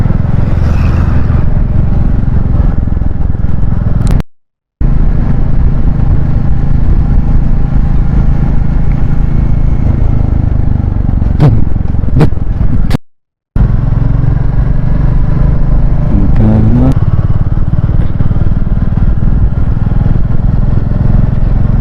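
A motorcycle overtakes on a road between towns, its engine droning loud and steady with brief clattering and passing-vehicle swells, cut by two short dropouts.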